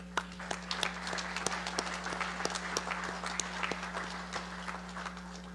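A convention audience at a general session applauds membership posts with scattered, fairly light clapping. The separate claps stay distinct, and a steady electrical hum runs underneath.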